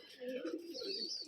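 Pigeons in an old-generation loft in Rajshahi give soft, continuous cooing at moderate level over a steady background.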